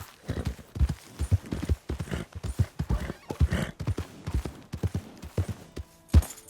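A horse in Red Dead Redemption 2 gallops with rapid, rhythmic clip-clop hoofbeats close up, loud and even throughout, with a brief snort near the end.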